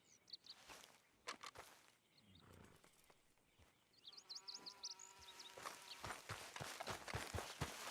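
Horse hooves clopping in the video game Red Dead Redemption 2, irregular at first and then settling into a quicker rhythmic walk that grows louder, with a horse's whinny in between.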